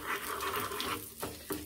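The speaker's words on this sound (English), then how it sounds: "You see the sizzling? The curry leaves always does that." Hing and curry leaves sizzle in hot oil for an ivy gourd chutney, a steady, fairly quiet close hiss and crackle that thins out briefly near the end, with no talk.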